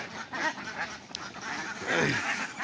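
Several farm ducks, just released in the morning, quack in a loose, overlapping chorus nearby, busy and steady throughout the short stretch.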